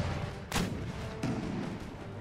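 Artillery shells bursting high in the air during an Empire Total War battle, two sharp booms about three-quarters of a second apart, standing out over a steady background of distant battle noise.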